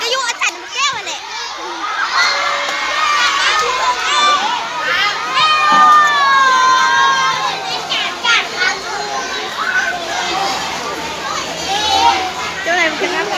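A crowd of children cheers for the teachers' team at a school teachers' friendship ball match, with dense, loud, continuous shouting and excited voices throughout.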